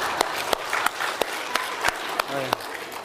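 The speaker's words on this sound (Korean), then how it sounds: "박수 부탁합니다." A church congregation gives applause during a sermon, with scattered, sharp individual claps at irregular intervals over a murmur of voices and some speech.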